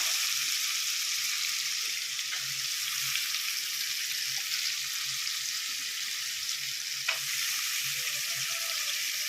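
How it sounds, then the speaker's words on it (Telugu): Green chillies and onions frying in a pan, a steady bright sizzle that runs unbroken and fairly loud, with a few soft stirring knocks and no voices. "పచ్చిమిర్చి, ఉల్లిపాయలు వేసుకొని సిమ్లో పెట్టి మగ్గనిద్దాం."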